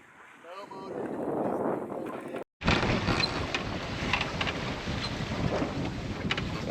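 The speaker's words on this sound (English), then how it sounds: "just sailing under full canvas." Sailboat running under full sail on a rolly anchorage passage: steady rushing wind and water noise around the hull, fairly loud and continuous after a brief break, with people talking over it.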